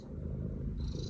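A cat purrs steadily close by, a soft continuous low rumble with no voices over it.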